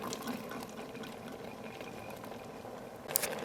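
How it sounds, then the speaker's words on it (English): Black beans poured into a pressure cooker make a steady, wet, sloshing pour that runs for several seconds, with a brief clatter near the end. "Now we're gonna add in our black beans,"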